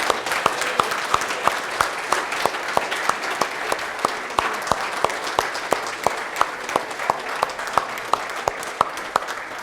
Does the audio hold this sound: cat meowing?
no